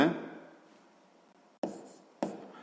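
A pen writes out a sixth-grade geometry answer by hand: one long scratching stroke, then two short, crisp strokes after a pause, all close and dry.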